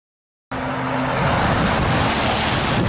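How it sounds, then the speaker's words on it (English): A car speeding past on a road above downtown San Jose: a sudden loud whooshing roar bursts in and holds as a broad rushing noise, close and unbroken, with no talk. "That car. It was coming pretty fast."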